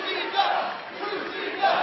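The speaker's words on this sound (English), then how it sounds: "Crowd's loving it." Wrestling arena crowd roars steadily through a fisherman's suplex near-fall in the ring, with loud swells of cheering and shouting, no talk over it.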